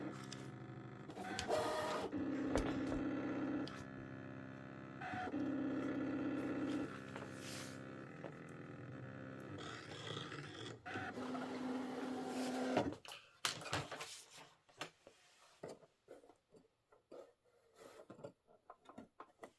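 A Brother cutting machine slices appliqué fabric pieces with its blade, a steady mechanical whirring and buzzing of the motor in sustained passes, stopping midway, then giving way to scattered clicks and soft handling noises.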